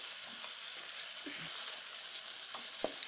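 Beef pieces fry in a pan for a sweet meat curry, giving a faint, steady sizzle with a few soft clinks from stirring.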